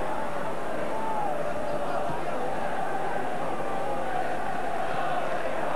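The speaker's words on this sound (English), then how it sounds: "Rangers to kick off with a huge crowd backing them up." A huge football crowd at Ibrox stadium for Rangers v Dundee United in 1983, a constant dense roar of massed voices filling the ground from a distance, steady and unbroken throughout.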